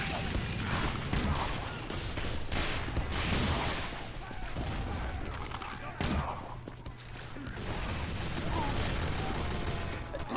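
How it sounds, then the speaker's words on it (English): Gunfire and explosions in a Team Fortress 2 match on the Pier map, including sniper rifle shots, as a dense, continuous battle din with sharp cracks near the start and around six seconds, under faint talk. "We do a little bit of sniping."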